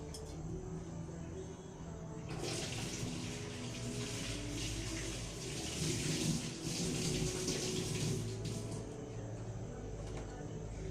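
Tap water running at a kitchen sink while hands are washed, a steady hiss and splash that starts abruptly and flows for several seconds before easing off, with faint background noise.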